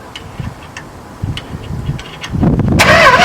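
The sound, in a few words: starter cranking engine of a 1973 Plymouth Fury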